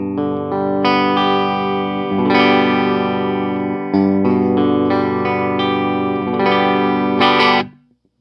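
An electric guitar with a stock HFS humbucker pickup on a brass baseplate rings out sustained, distorted chords played one after another, each swelling and hanging before the next and then cutting off at the end. Nobody speaks.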